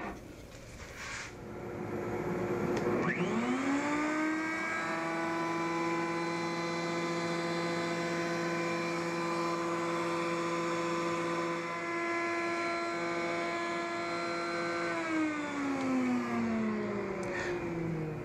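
Router cutting a wooden ring on a circle-cutting jig, a loud steady whine that spins up near the start, holds an even pitch for about twelve seconds, then winds down at the end.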